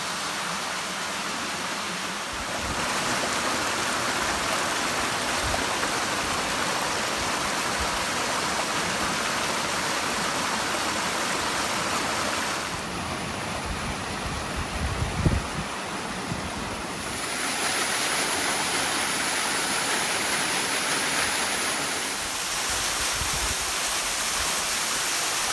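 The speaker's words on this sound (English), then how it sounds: "So we got to our first awesome waterfall." Mountain waterfall on a trail traverse, a steady broadband roar of falling water close by with some wind noise, continuous and loud with no talking.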